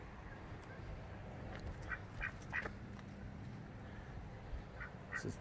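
Ducks quack in short scattered bursts by their hutch, several calls close together midway and a couple more near the end, over a low steady background rumble.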